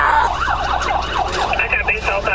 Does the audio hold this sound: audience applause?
no